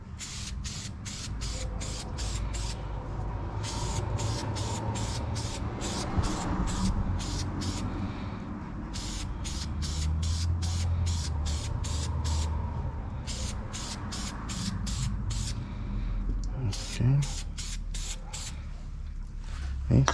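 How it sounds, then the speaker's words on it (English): Oil sprayed onto a K&N air filter for a 2014 Mazda 3 comes as a long run of rapid, evenly pulsed hissing bursts from an aerosol can, close and steady, over a low room hum. "I'm done spraying the oil on there."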